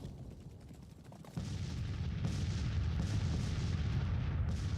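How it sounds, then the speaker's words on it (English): Artillery fire in Grand Tactician: The Civil War during the Battle of Fredericksburg, distant booming cannon shots over a steady low battlefield rumble that swells partway through, no voices. "But a nice little artillery duel."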